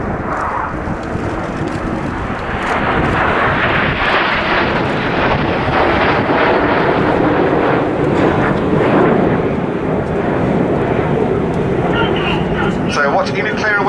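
Red Arrows RAF jets roar loudly and continuously overhead while flying a slalom at an airshow, a broad sustained engine rumble with wind buffeting, under an announcer's commentary.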